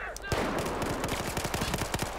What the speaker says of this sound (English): Got a high rate of fire. That's interesting. I believe this is an assault rifle.